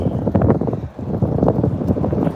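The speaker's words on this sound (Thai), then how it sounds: "แต่ว่าพอปั่นจักรยานมันจะมีลม" Wind noise buffeting the microphone while riding a bicycle outdoors at dawn, a steady loud rumbling roar with gusty fluctuations running throughout, no voices.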